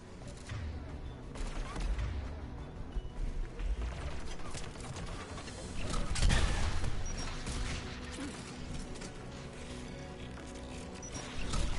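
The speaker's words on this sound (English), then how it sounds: "There, the anti-aircraft guns." Anti-aircraft guns in a war video game fire in a sustained, rumbling fusillade with mechanical clatter. The shots come steadily over about twelve seconds at moderate level, and one heavier burst swells near the middle.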